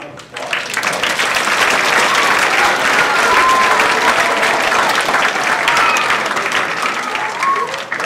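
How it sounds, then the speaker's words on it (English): Loud, sustained applause from a large audience at a school dance and drama residency, a dense steady clatter of clapping that holds for several seconds before easing slightly at the end. "Give them a round of applause."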